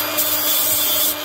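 A grinder rounds off the cut end of a homemade steel J-hook tow hook, giving a steady, loud, hissing grind that runs without a break for the whole moment.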